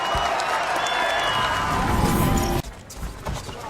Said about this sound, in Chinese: 掌声和呐喊